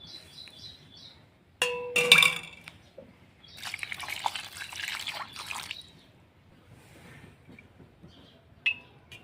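Water pours in a couple of bursts, gurgling and trickling into a container of churned curd to make butter, with faint chirping birds in the background.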